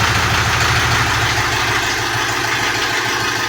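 Jinma 404 tractor with a 40-horsepower engine idling, a steady loud rumbling drone close by with even vibration and no talk.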